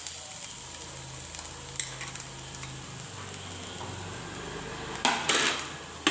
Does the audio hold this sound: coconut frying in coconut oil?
yes